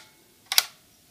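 A single sharp mechanical shutter click from an Agfa Box 50 box camera, one brief bright snap rising out of near silence and ending almost at once, recorded close up.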